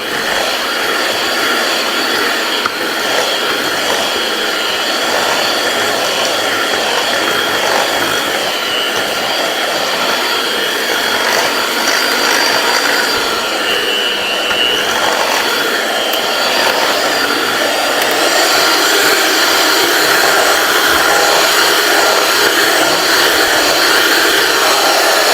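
An electric mixer beating cookie dough whirs loudly and steadily for the whole stretch, a dense close motor hum with slight shifts in strain and no talk over it.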